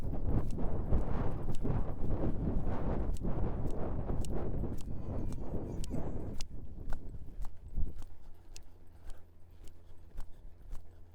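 A horse lopes with rhythmic, steady hoofbeats. A dense, loud stretch of sound gives way after about six seconds to sparser, distinct thuds.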